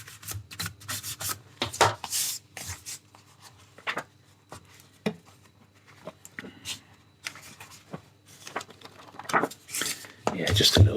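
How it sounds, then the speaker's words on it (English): A pencil price is rubbed out inside a vintage Penguin paperback, with bursts of scratchy, papery friction as the eraser works back and forth, starting and stopping irregularly up close. "rubbing out of the price inside there"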